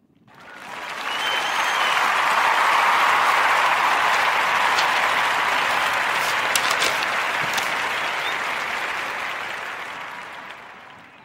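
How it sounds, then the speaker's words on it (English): A podcast audience gives a sustained round of applause that swells quickly, holds steady and full for several seconds, then tapers off gradually, with no talking over it. "Join me in giving the Narrative Podcast round of applause to Dip Sweets"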